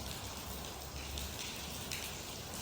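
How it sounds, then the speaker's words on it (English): Rainwater dripping inside a large hall just after a rain shower, a steady wet pattering and splashing that fills the space, fairly close and continuous with no voices. "it just rained, so now I'm going to get dripped on in here."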